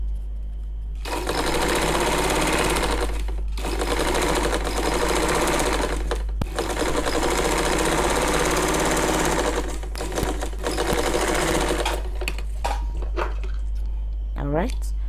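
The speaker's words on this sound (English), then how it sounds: "I am sewing all the 5 pieces now together." Sewing machine stitching five fabric turban cap pieces together, running in long steady bursts with brief pauses between seams, close and loud throughout.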